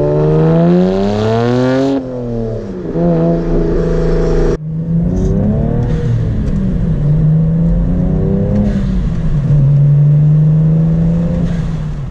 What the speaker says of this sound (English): A simple blow-off valve and a muffler delete, and you get a car that sounds almost like a race car